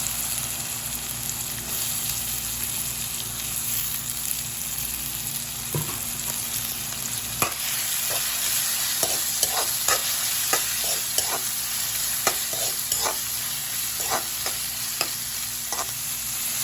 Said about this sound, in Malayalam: വെളുത്തുള്ളിയുടെ പച്ചമണം മാറിയതിനു ശേഷം സവാള ഇട്ട് കൊടുക്കും.